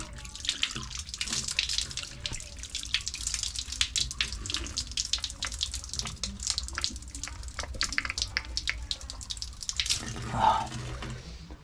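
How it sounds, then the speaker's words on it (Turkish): Water running from an old public Ottoman-era drinking fountain in Belgrade, a steady trickling splash with dripping, moderately faint and close, heard alone without talk. "Çeşme çalışıyor mu acaba?"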